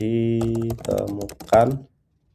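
Computer keyboard keys clatter in a quick, close burst of typing while code is entered, over a steady tonal hum, and the keystrokes stop abruptly near the end.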